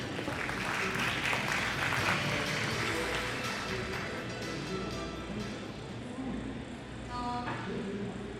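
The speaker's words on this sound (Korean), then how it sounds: "박수 부탁드립니다" An audience at a sustainable seafood forum applauds, dense steady clapping filling the hall for several seconds before gradually thinning toward the end.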